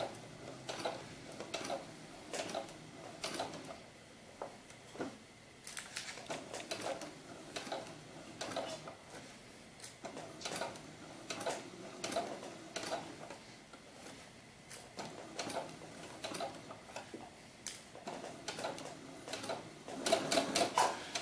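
Domestic sewing machine stitching pleats into a doll-sized historical ball gown, running in repeated bursts of rapid mechanical ticking separated by short pauses, close and moderately loud.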